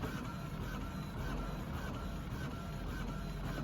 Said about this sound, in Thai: เครื่องก็จะทำการ พิมพ์นะครับนะครับ แบบนี้ออกมานะครับ เป็นตัวอย่างงานเทสนะครับ